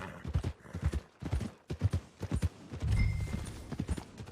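Hooves clip-clop on a horse in Red Dead Redemption 2, a brisk uneven run of close, clear footfalls with a brief lower rumble partway through and no talk.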